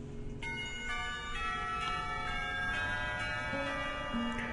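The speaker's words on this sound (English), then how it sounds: "The lunch bell rings, signaling a return downstairs." A school lunch bell chimes in the Katawa Shoujo game, a sequence of clear ringing bell tones with long sustained overtones that overlap as the notes follow one another.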